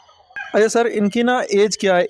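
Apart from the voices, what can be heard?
chickens and roosters clucking on a poultry farm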